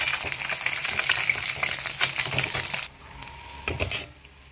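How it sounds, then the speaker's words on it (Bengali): Fish pieces sizzle in hot oil in a pan, a close crackling fry that drops away quickly as they are lifted out, followed by a few metallic clinks and scrapes. "মাছগুলো ভাজা হয়ে গেছে, তুলে নিচ্ছি"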